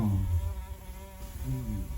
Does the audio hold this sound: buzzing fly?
yes